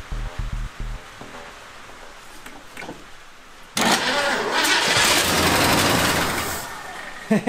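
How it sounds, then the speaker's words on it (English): A 1974 Ford F-250 Highboy truck engine cranks with a few low chugs, then catches and roars loudly, running rough and steady before easing off near the end. "we're gonna see if the engine will turn over here."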